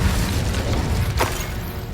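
An Incendio fire spell is cast in the Hogwarts Legacy video game: a dense, roaring burst of flame noise that holds steady for two seconds, with a sharp crackle partway through.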